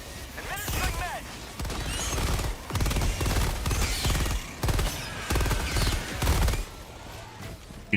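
Rapid automatic gunfire in the Helldivers 2 video game, dense bursts of shots in repeated volleys over about eight seconds, loud and close, with a voice speaking briefly early on.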